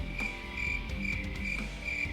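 A cricket chirping sound effect used as a comedic gag: faint, steady pulsing chirps repeating evenly throughout, heard alone without any voices.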